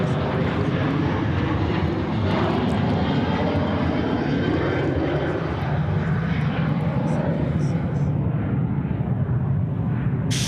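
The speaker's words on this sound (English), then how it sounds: "Also got Etihad coming in quite soon" An Etihad airliner arriving at Sydney Airport makes a loud, steady engine roar close by that fills the whole span, easing slightly toward the end.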